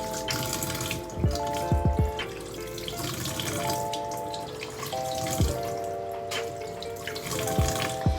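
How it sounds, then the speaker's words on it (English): A tap runs steadily with water splashing and spattering over hands, with occasional splashes and light tones in the background. "Turn on the water and adjust the flow so that the water is running."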